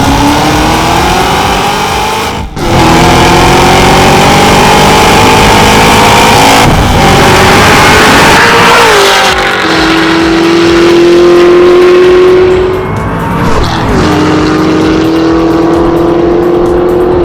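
Two supercharged V8 Cadillac CT5-V Blackwing sedans with manual transmissions, one stock and one modified H1000, roar loudly through a roll race, with rising engine pitch, brief dips at gear shifts and sustained hard acceleration.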